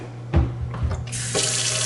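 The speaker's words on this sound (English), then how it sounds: "We'll put it on hot water only. Good water pressure." Hot water runs from a kitchen sink faucet with good pressure, a steady rushing stream that switches on and swells louder partway through, close and alone with no talking.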